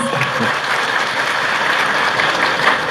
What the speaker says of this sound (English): A big round of applause for that, please.